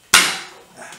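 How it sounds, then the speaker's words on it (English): A single sharp knock of a plastic hammer striking while working on a BSA 350 motorcycle, loud and close, with a short ringing decay and a softer tap right after. "plastic hammer."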